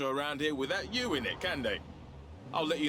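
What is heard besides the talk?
No distinct noise like a dog, phone or traffic.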